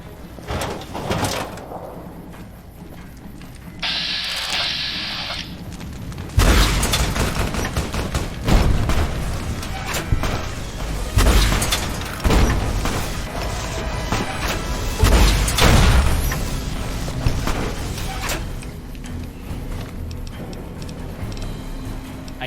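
A missile launcher fires repeatedly in Fallout: New Vegas, with loud blasts and explosions over a chaotic stream of battle noise and rattling gunfire.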